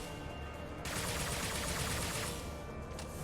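A sustained roaring burst of heavy weapon fire in Mass Effect 2 blasts loud and continuous for about a second and a half amid steady battle noise.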